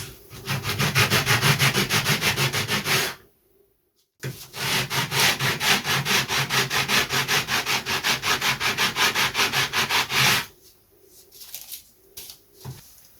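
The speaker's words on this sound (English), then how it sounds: "I'm going to sand the bottom of these first, get them nice and flat." Coarse sandpaper rubbed over plywood parts for a pre-WW1 style RC model aircraft, making loud, rhythmic back-and-forth scratching strokes that stop briefly, resume for a long run, then fade to lighter scraping at the end.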